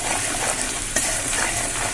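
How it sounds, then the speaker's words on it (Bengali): Spice paste with fried egg and boiled potato sizzling in a pan, a steady close frying hiss with a brief stir near the middle. "এই ভালো করে মশলাটা দেখো আমি কষিয়ে নেব ডিম আলুর সাথে"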